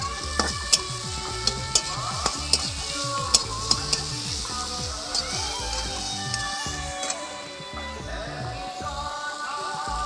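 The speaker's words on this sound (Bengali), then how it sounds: "খন্তা দিয়ে নাড়ছি তো কেটে যাচ্ছে, এটা নরম হয়ে এসছে।" Onions softening in a pan sizzle steadily while a spatula scrapes and taps against the metal in quick repeated strokes, loudest early on, then the frying hiss carries on alone.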